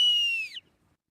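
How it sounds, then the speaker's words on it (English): A sharp, high boatswain's whistle blows one short piercing note that bends downward and cuts off abruptly, leaving silence. "The boatswain's whistle communicated specific commands to the sailors"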